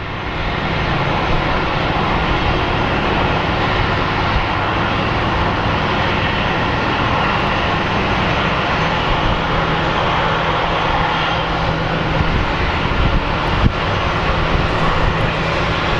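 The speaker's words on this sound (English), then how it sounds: "That was a great landing, wasn't it," Airliner landing at Phoenix Sky Harbor airport, a loud, continuous broadband jet roar held steady throughout, rumbling low with a dense hiss on top and no voices.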